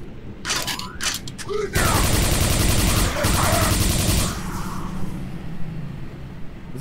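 Rapid sustained gunfire from a weapon in the video game Quake 4, a dense automatic burst lasting a few seconds after some scattered shots, loud and close, with game effects and a voice around it.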